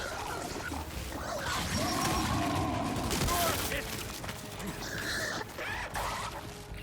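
Gears 5 game combat: a grenade blast and rumbling explosion noise roll out amid ongoing gunfire, dense and loud for several seconds, with voices shouting over it.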